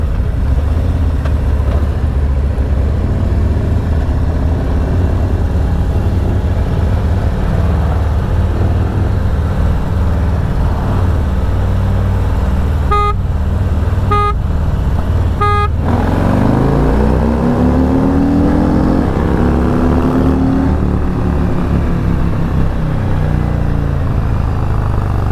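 A vehicle fitted with a Stage II performance kit accelerates hard in second gear. Its loud, continuous engine drone climbs in pitch as it revs, heard up close with no talk.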